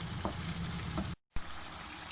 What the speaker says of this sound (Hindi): इसको हम ऐसे हल्का हल्का इस तरह मैश कर लेते हैं।